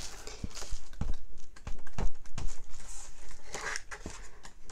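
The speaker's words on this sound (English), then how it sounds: "The lovely sound of paper flipping." Art paper pages with a vellum surface being flipped close up, a series of crisp rustles and soft flaps at an uneven pace, with no voices.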